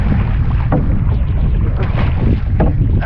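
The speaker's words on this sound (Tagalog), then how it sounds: "Sagwan na naman natin kasi sana maiangat natin." A small wooden boat is paddled across choppy, wind-whipped water, with a steady rush of wind buffeting the microphone and faint periodic splashes of paddle strokes underneath.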